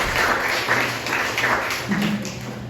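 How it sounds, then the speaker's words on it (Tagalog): A church congregation clapping their hands together, a loud dense wash of applause with a loose rhythmic pulse, close and filling the room. "pumalakpak tayo sa Lord"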